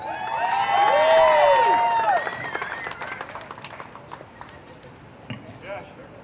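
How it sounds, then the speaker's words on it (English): A large union crowd at a civic center rally cheers and claps, opening with loud whistles and whoops that fade into scattered applause and chatter. "So please give a big round of applause to Mr."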